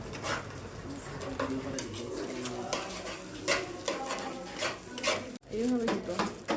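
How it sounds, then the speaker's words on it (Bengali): Eggs frying in a pan, with scraping and soft clinks of a utensil against the pan and a faint, steady background hiss throughout. "এর জন্য আমি প্রথমেই ডিমগুলো সুন্দর করে ভেজে নিলাম।"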